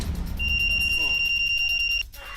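An SOS alarm sounds from an Optisafe My Hero personal safety device as a steady, piercing high electronic tone lasting over a second and a half, then it cuts off abruptly, with talking around it.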